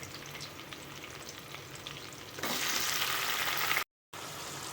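Chopped tomatoes sautéing in a pan for tomato rice, a steady soft sizzle that grows louder and brighter partway through, with a brief drop to silence near the end.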